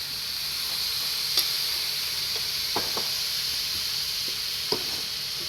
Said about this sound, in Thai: เราก็ใส่น้ำล้างครกไปเลยค่ะ